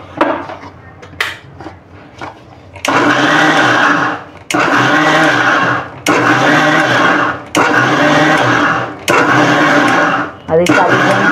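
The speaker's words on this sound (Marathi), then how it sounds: "बघा आता आपण मिक्सरला वाटून घेऊया." A mixer grinder grinds soaked idli batter in short pulsed bursts, about five loud whirring runs with brief pauses between them. Softer clinks and rattles come before the first run.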